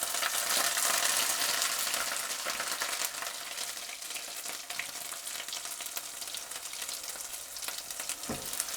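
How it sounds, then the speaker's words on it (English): Garlic and ginger paste frying in a hot pan for chicken ruby curry, a loud, continuous crackling sizzle that starts strongest and settles into a steady hiss, with a brief scrape of stirring near the end. "I'm going to put my garlic and ginger paste in"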